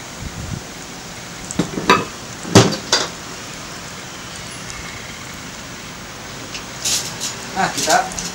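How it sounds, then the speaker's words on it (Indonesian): Homemade chicken nuggets sizzle in hot oil over high heat, a constant soft crackle running beneath intermittent nearby speech and a few louder clatters. "pelan-pelan kita goreng satu"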